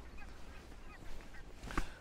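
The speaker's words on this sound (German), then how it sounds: "Die Gänse kommen jetzt langsam rein zum Frühstück." Geese honking as they fly in at dawn near a lighthouse, faint distant calls under a soft breeze, with a single louder honk near the end.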